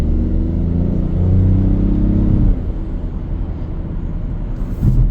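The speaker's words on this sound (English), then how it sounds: "Especially when you hear the turbos" A 2026 Toyota GR Corolla's turbocharged engine accelerates with a loud, steady low roar and rising rumble on the highway, a brief shift-like drop midway, then continued engine drone.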